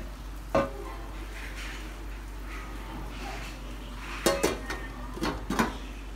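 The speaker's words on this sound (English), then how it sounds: "my sister is cooking and I don't know what she's cooking" Someone cooks at a home kitchen stove, with a low steady hum, soft scraping and stirring, and a few sharp clinks of utensils against pots, mostly near the start and toward the end.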